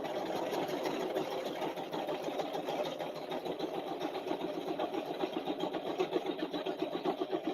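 A sewing machine hums with a rapid rhythmic needle patter, steady and fairly close, while doing decorative stitching on a quilted mug rug.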